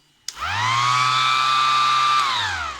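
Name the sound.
Ryobi cordless tool blowing air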